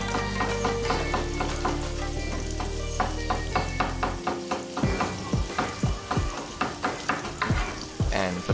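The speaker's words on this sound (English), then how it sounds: "And put into the pan and stir frying it for a while." Minced garlic sizzles and crackles in a hot pan as it is stir-fried, while a utensil scrapes and taps against the pan in quick, uneven strokes, close and fairly loud.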